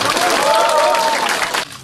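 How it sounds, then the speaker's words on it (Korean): Audience applause at a mayoral candidacy press conference in Bucheon, a dense burst of clapping from a crowd heard close and loud, with some voices mixed in, cutting off abruptly near the end. "뜨거운 박수로 맞이해주십시오."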